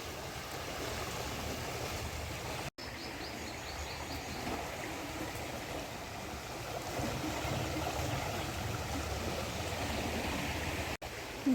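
Fast-flowing, deep Ganges river water at Haridwar rushes in a steady, loud broadband roar that fills the scene without a break, with no voices over it.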